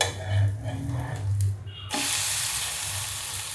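A chibud dhirde, a pancake made from chibud, fries in a pan with a steady hissing sizzle that swells sharply partway through and stays loud and close, with low hum underneath early on.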